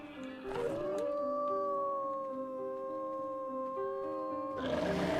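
A drawn-out animal howl in the game ARK rises and holds as a steady wavering tone for several seconds over a low rumbling backdrop, with noisier bursts at the start and end.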